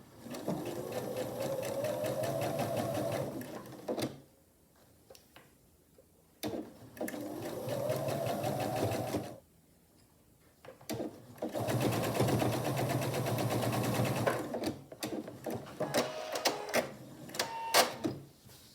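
A sewing machine stitches quilt block strips with a scant quarter-inch seam, running in long steady bursts separated by short pauses, close and even, with small clicks and fabric handling between runs.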